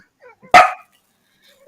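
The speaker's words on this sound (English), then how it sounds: "That dog." A single loud dog bark, close and sharp, standing alone between brief faint sounds and near silence.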